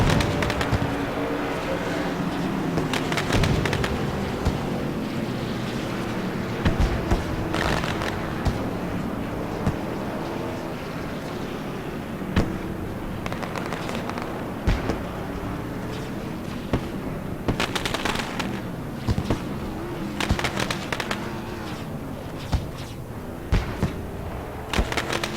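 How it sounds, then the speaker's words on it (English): Fireworks display off turn three at South Boston Speedway during a modified race night, a steady wash of distant booms and crackles with sharper bursts scattered throughout, heard from afar and without voices. "Beautiful firework display there off of turn number 3."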